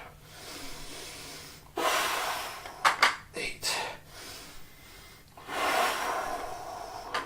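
Heavy, forceful breathing during a set of weighted shoulder shrugs, with several loud exhalations and snorting breaths in a close, uneven rhythm, while a man counts reps.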